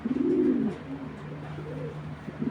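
Racing pigeon cooing close by: one full, rolling coo at the start followed by softer, lower murmured coos, with no talking over it.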